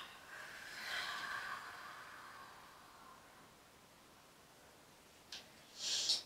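A soft, close breath is exhaled slowly during a beginner's morning yoga session, followed by faint rustling and a short sharper breath near the end, with no talking.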